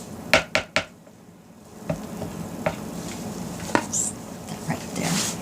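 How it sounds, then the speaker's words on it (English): Moringa clay soap batter stirred by hand with a utensil in a container: a few sharp clinks at first, then softer intermittent scraping and tapping, close by with no talk. "Give that a good stir."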